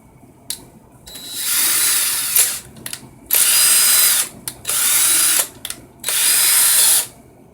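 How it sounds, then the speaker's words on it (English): A power drill used in a vaping coil build runs at low speed in four bursts of steady whirring, each lasting about a second or two, separated by short pauses and clicks, with no talk. "when I turn it all the way down, this is like how slow I can get it"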